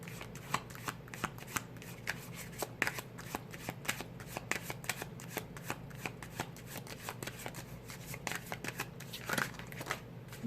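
Tarot cards being shuffled close up: a rapid, continuous run of crisp riffling flicks and slaps that carries on steadily throughout, with no voices over it.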